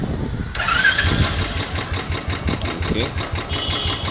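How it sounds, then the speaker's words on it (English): A Royal Enfield Classic 350 motorcycle engine cranks and catches, then settles into a steady idle with rhythmic thumping close by, as a person briefly speaks over it. "Now we need to start the vehicle to check for any leaks."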